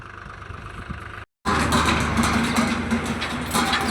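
A tractor engine idles steadily in a field during potato loading, a continuous close rumble that cuts out abruptly for a moment and then resumes at the same level.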